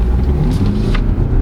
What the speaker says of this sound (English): that engine's so punchy